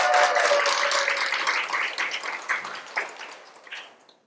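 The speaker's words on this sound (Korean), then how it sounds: "박수 한번 좀 크게 쳐주세요" Audience applauding at a televised Korean lecture, a dense wash of many hands clapping that gradually thins and fades out over a few seconds.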